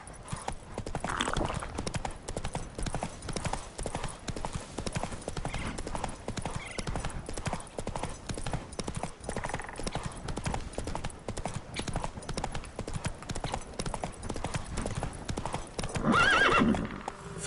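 A horse gallops in The Witcher 3 on PS5 with fast, continuous hoofbeats throughout and a loud neigh near the end.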